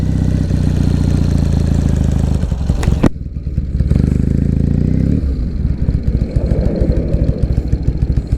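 A 2006 Triumph Bonneville engine idles loudly and close, a steady low throbbing rumble with a sharp clack partway through, after which the beat turns lumpier and uneven.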